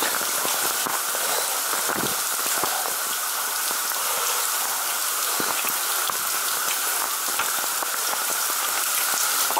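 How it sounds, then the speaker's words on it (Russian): Water drips and trickles all around inside a damp cave covered in flowstone. The patter is dense and continuous, loud and close, with no voices. "Все кругом течет и капает."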